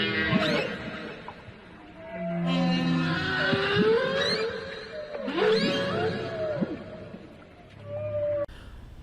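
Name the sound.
blue whale vocalization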